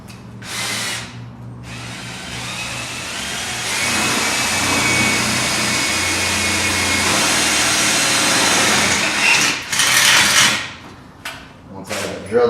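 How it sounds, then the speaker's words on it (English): A power drill with a 5/16 inch bit bores out a hole for several seconds, a steady loud whine with short starts and stops at the beginning and end, close and alone. "And go ahead and drill that out."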